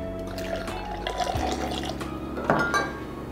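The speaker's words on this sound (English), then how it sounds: "So we're gonna do about 3/4 ounces of lemon juice." Lemon juice pours into a cocktail shaker for a Prohibition daiquiri, a short close trickle of liquid with faint glassy ringing and a small clink near the end, no voices.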